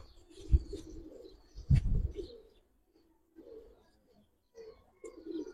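A Giribaz pigeon coos in a few separate low, throaty bursts with quiet gaps between them, close by and otherwise calm.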